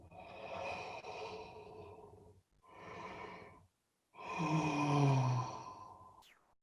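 A person yawning during a guided relaxation exercise: three long, breathy exhalations with pauses between, the last one rising into a drawn-out, voiced yawn.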